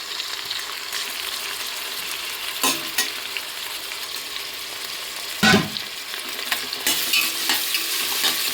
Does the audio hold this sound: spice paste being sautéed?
yes